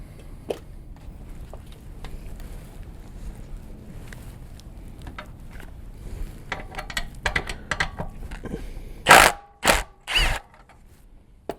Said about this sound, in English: You need a 10mm socket to get the clamp that's underneath here.